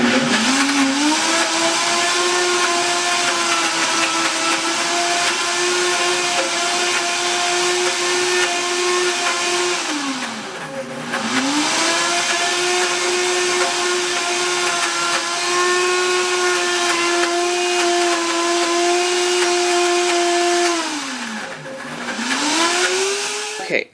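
An Oster Versa blender grinds almonds into almond butter, its motor whining loud and steady with a deep churning tone that sags briefly twice as the thick mixture bogs the blades, then recovers.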